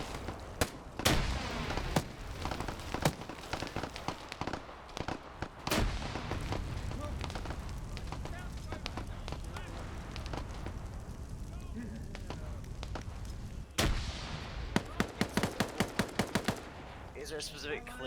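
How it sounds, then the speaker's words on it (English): A close, dense barrage of rapid gunfire and heavy grenade blasts fills a military video game firefight during a training operation, with sharp bursts at irregular intervals over continuous battle noise. "It's a grenade fight."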